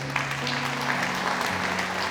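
Congregation applauding in a church service, steady sustained clapping filling the room, with low organ or keyboard tones held underneath.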